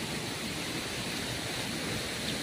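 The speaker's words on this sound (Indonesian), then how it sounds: "ini juga ada air terjun nih, tapi kecil" A small waterfall gives off a constant, even hiss of falling water, steady and fairly faint throughout, with no voices.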